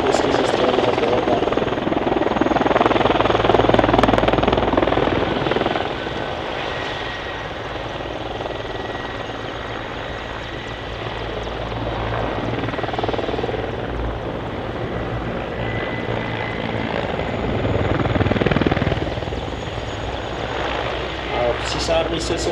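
A Mi-17 or Mi-24 military helicopter hovers nearby at an air show, its rotor thudding in a continuous droning rumble that swells and fades slightly, with a voice talking over it.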